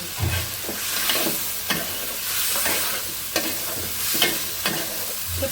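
Fish pieces being sautéed with spices in a pan, a constant close sizzle broken by several sharp spatula scrapes and knocks at irregular intervals.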